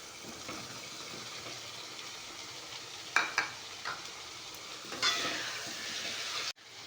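Brinjal frying in a pan with softened onion and tomato for a dried-fish curry, giving a faint, steady sizzle with a few scraping stirs and a brief louder burst of frying near the end.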